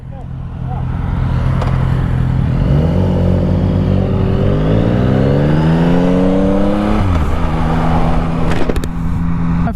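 Motorcycles, including a Suzuki GSX-R, ride loud and close, with engines climbing through the gears in rising, stepped whines before easing off. A steady rumble of wind and road runs throughout.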